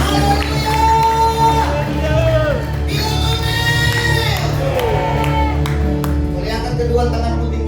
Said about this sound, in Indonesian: Tepuk tangan yang lebih meriah lagi buat Tuhan Yesus. Sorak haleluya.